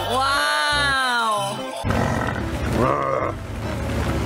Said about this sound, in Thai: ชวนพี่ควายมาเดินดีกว่า